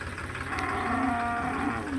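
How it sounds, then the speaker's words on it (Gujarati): Cows at a cow shelter moo, a long low drawn-out call rising over a busy background of other cattle and farm noise, moderately close. "ગાયો ઘણી બધી છે મિત્રો."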